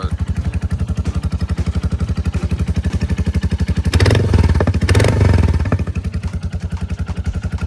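A Royal Enfield motorcycle engine runs at a steady, close thumping idle, then briefly revs twice before settling back to a loud, even beat.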